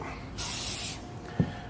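A short burst of GluBoost Fill n' Finish spray onto hardwood, hissing steadily for about half a second, then a soft knock shortly after.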